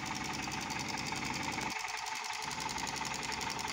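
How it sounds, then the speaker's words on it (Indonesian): A miniature Dongfeng diesel engine, running on two rechargeable batteries, chugs steadily with a fast, even mechanical rhythm, loud and close throughout with a brief dip in its low rumble partway through. "Alhamdulillah, untuk mesin bisa berputar dengan otomatis ya"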